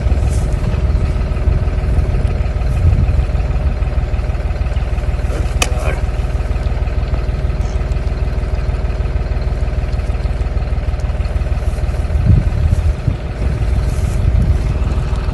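A steady low tractor engine idles throughout, a constant rumbling drone with a faint click midway and no speech.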